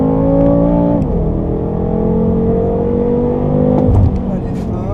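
A BMW M6 Gran Coupé, a 560-horsepower large sedan, pulls hard at full throttle on a racing circuit, its engine note climbing steadily between gear changes, loud and close from inside the cabin with a voice talking over it.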